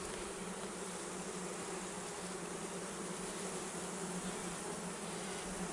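Honeybees swarm and buzz steadily around an open Layens hive built on natural comb, a dense, continuous close drone with no voices.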